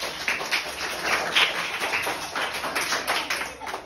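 A group of children claps for the winner of a physical education game, a brisk, dense patter of many hands at moderate distance that keeps up steadily throughout, with no talking.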